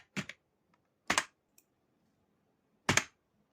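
Three separate sharp keystroke clicks on a computer keyboard while a command is entered in cmd, spaced irregularly with quiet gaps between them, close and clear with no talking.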